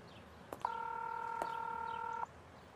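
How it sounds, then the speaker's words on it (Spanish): An unanswered telephone rings once, a steady electronic double tone lasting about a second and a half, framed by a couple of faint clicks against quiet room background. "Si tan solo pudieras contestar el teléfono."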